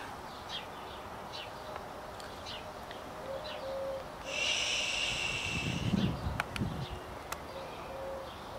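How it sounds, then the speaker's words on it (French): Faint bird calls chirp intermittently over a soft outdoor background, with a brief steady hiss in the middle. "Oh, petit oiseau."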